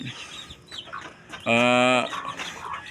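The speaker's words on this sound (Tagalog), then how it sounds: "Ganito mga manok." A chicken lets out a loud, drawn-out cluck-squawk in the middle, with softer clucks and rustling around it close by.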